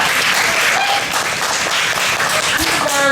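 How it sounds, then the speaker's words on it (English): A crowd applauds at a poet laureate stage event, loud close clapping with a few voices and cheers mixed in, continuing steadily across the short span. "So another round of applause."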